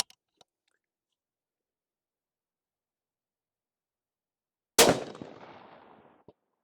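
A single rifle shot fired at a barricade target cracks out sharply after a long silence, its loud report decaying over about a second and a half, with a few faint clicks before it.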